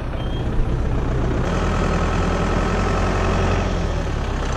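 A truck engine rumbles steadily at close range on a cattle-handling site where feed bunks are being set, the low drone holding an even level throughout with no pauses.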